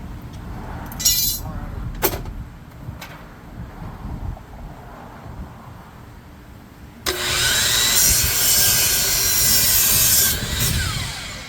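A handsaw cuts through a wooden board for an outdoor workbench, with scattered rasping strokes at first, then a steady, loud stretch of close sawing near the end.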